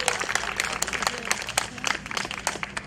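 Audience applause at a festival opening ceremony held outdoors in the sun, steady scattered clapping with sharp individual claps over a low murmur of crowd noise, moderately loud throughout.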